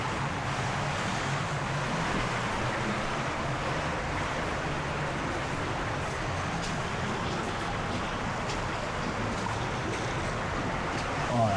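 Steady broadband rush of water at a waterfall swimming hole, a continuous roar filling the whole clip at even loudness, fairly close, with no talking.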